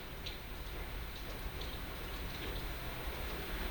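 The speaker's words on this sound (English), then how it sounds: "it's raining a lot" Steady rain falling outdoors, a dense even patter of drops hissing on surfaces, close and continuous with no break for the whole stretch.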